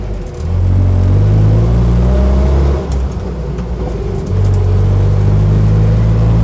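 A Land Rover Lightweight engine drones while driving, with a loud low rumble that rises and settles as the revs change, dipping briefly midway before pulling steadily again, close and continuous.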